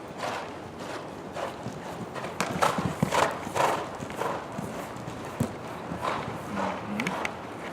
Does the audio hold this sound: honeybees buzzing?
no